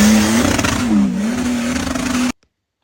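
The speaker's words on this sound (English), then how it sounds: "I have no idea why don't we have Nissan Patrols here. The sound that they produce is freaking amazing" A Nissan Patrol off-roader's engine revs loud and close with a steady droning tone that wavers slightly, then stops abruptly.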